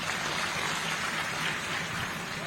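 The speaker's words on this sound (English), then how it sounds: "I think we should clap for that." An audience at a union's silver jubilee celebration claps in a dense, even patter of applause that holds steady throughout, heard from within the crowd with no voices on top.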